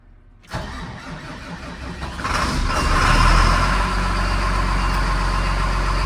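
A farm sprayer's engine cranks and catches abruptly, then builds into a steady, close, mid-pitched running rumble that holds without a break.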